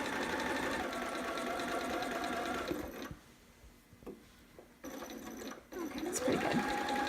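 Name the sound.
sewing machine stitching fabric of a romper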